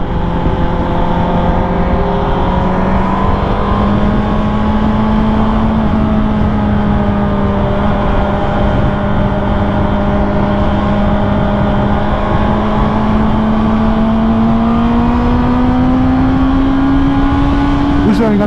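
A 750 superbike engine drones steadily nearby, its pitch rising slowly as it holds a loud continuous whine, with a voice talking over it.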